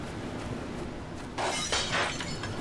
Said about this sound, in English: You guys heard the glass breaking? That wasn't glass actually breaking. That's the Twitch logo.